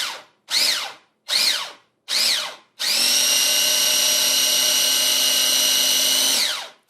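A Cuisinart food processor chops herbs, four short whirring pulses followed by a longer continuous high-pitched motor run, close and loud.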